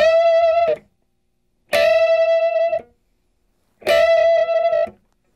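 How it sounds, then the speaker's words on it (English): An electric guitar plays completely dry with a clean tone. Three loud, close single notes each ring for about a second and stop abruptly, separated by silence, with no echo and no voice. "Now let's hear it completely dry."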